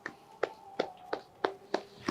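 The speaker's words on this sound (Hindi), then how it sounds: "कपूर साहब के नाम की तालियां" Applause honoring Kapoor sahib, heard as a slow, sparse series of about six distinct hand claps, evenly spaced, fairly quiet and close, with no speech.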